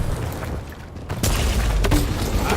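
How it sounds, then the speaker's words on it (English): Fireworks go off in the video game Accelerated Evolution: two sharp, bright bursts crack over a loud, steady rumbling background, one after the other, close and forceful. "Here come the fireworks."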